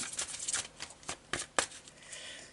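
Tarot cards are shuffled and drawn for a reading, with a quick run of soft, close riffling snaps followed by a few sharper card flicks, faint and without talking.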